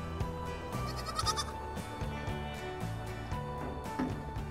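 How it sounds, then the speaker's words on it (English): Goats bleating in a pen, several overlapping calls up close over a busy farmyard background, with no talk. "There's just a few more goats in there now."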